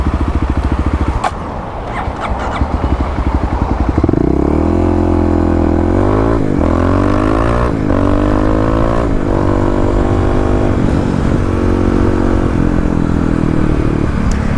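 A Kawasaki KLX motorcycle engine idles close by, then revs up and down in several rising and falling sweeps, loud and steady with a rough clattering edge.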